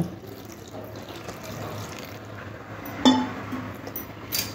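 Water poured into a pot holding soaked raw chickpeas for boiling, a soft running splash with a brief clink of a vessel partway through, quiet and close.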